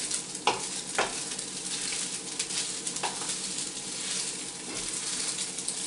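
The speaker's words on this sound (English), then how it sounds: "You're going to want to keep stirring and not stop stirring" Garlic hisses and sizzles in a hot frying pan under continuous stirring, with a few sharper clicks of the utensil against the pan, steady and moderately close.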